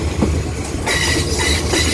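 Express train 75 rolling along a railway line in Thailand near Khok Salung, a loud steady rumble of wheels on track with metallic clatter and a faint squeal.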